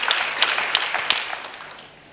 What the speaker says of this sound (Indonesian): Tepuk tangan yang paling meriah buat Tuhan yang luar biasa.